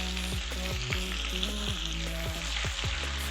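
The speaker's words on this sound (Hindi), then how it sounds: "लहसुन को हम ऑयल में फ्राई करेंगे।" Garlic frying in cooking oil for a tadka for daal, with crushed ginger added, gives a steady close sizzle with faint stirring clicks and no talking.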